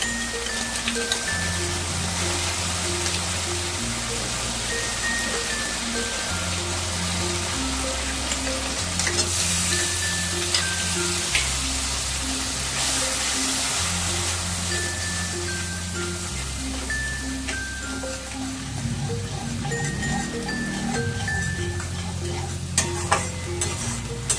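Beaten yogurt stirred into eggplant frying in a pan: a constant loud sizzle with spatula scrapes, under steady background music, with no voices.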